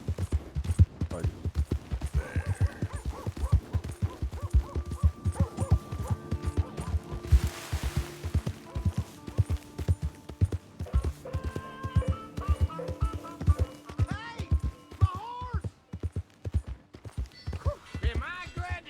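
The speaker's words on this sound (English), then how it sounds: "Caballo." Horse hooves clip-clop steadily at close range in the video game Red Dead Redemption 2, a rhythmic trot running throughout with faint background game sounds and brief tonal cues layered over it.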